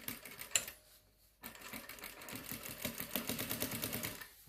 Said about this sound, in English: this is a permanent stitch, so we want to do a back tack.